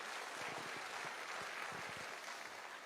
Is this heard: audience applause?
yes